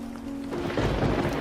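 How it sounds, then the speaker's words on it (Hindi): Heavy rain pours down steadily as low thunder rumbles and swells underneath, a dense, continuous wash of sound with no voices. "बारिश भी तेज हो गई है"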